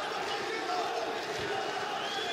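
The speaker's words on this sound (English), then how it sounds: "you hear the crowd. There are lots of fans of Islam Mamarov here that support him, that shout, Islam, Islam" Fight fans at an ACA 120 MMA event shout the fighter's name, a loud, continuous crowd roar with rising chants throughout.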